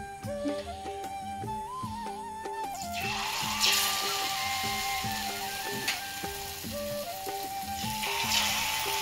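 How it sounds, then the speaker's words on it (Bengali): Palm fritters frying in mustard oil give a steady hiss and sizzle that swells after the first few seconds, heard beneath melodic background music with no talking. "আমি বড়াগুলোকে সর্ষের তেলে ভাজবো"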